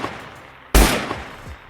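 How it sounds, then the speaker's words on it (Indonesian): A sniper's rifle shot rings out, a sudden loud crack that rolls into a reverberant boom over a quiet background, followed by a fainter, duller report moments later. "Dua tembakan membunuh mereka berdua"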